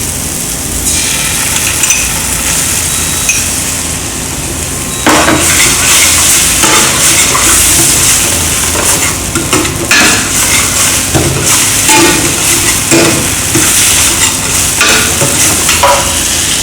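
Tomatoes and tomato puree added to a hot pan, sizzling loudly and bursting into a strong hiss, with utensil scrapes and clinks against the pan as they are stirred close by.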